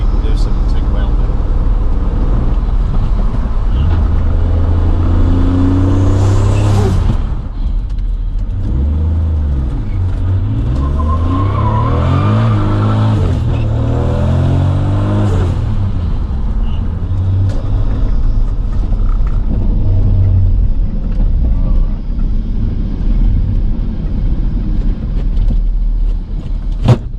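A Toyota Soarer with a 2JZ-GTE engine and big single turbo drives on a road, its low engine rumble and revving running steadily throughout while a person talks over it.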